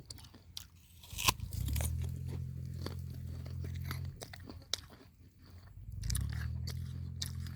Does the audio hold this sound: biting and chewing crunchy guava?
yes